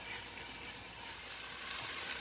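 Steady, hissing sizzle of onion, ginger and garlic frying in a hot pan, continuous and fairly close, with no talking.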